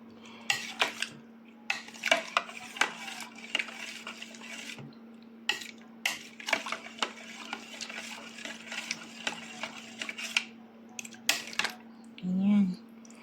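Buko pandan salad being stirred in a bowl, repeated close scraping and clinking of a spoon against the bowl in uneven bursts, with brief talk and a steady faint hum underneath.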